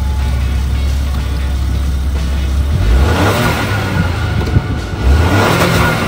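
A Ford Escape's engine runs loud and close, holding a steady idle before revving up sharply partway through, then settling and surging again, with no talking over it.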